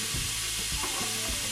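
Blender-chopped onion sizzles as it fries in a hot pan for chilli, a close, continuous hiss broken by soft stirring scrapes, with no voices.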